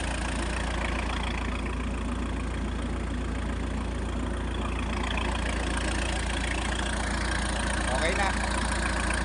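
A steady diesel engine idles continuously at close range, a constant low rumble with no breaks, sputtering or revving.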